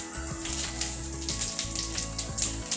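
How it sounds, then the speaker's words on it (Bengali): Two dried red chillies and a little cumin seed crackle and sizzle in hot oil. The spluttering is moderately close and sits over a steady tonal background. "এবারে ওই তেলের মধ্যেই আমি 2টো শুকনো লঙ্কা ফোড়ন দিলাম এবং সামান্য জিরে দিয়ে দিলাম।"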